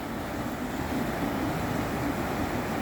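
Surf rolls in at a California beach as a continuous broad wash of breaking waves, loud and close with wind rumble on the microphone and no voices.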